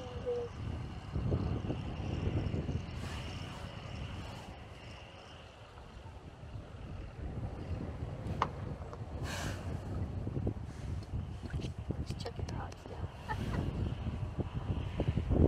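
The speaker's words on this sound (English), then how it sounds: "Yeah, that wind's picking up again." Wind gusting over Smith and Morehouse Reservoir in Utah from an Old Town canoe: a low rumbling buffet on the microphone that swells and eases, with faint water lapping and scattered light knocks.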